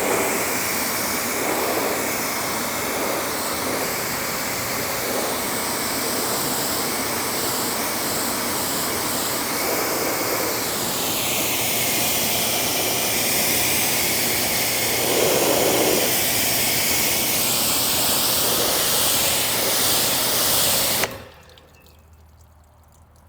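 Water spray rinsing a car panel coated with ceramic and hard-shell coatings, a steady loud hiss with splashing surges that runs continuously and then cuts off abruptly near the end.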